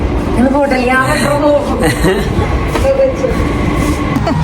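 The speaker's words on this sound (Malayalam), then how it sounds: "മെട്രോ വന്നുകൊണ്ടിരിക്കുക കേട്ടോ" Delhi Metro train rumbling into a station with a low rolling roar and faint squeal, while people talk loudly over it.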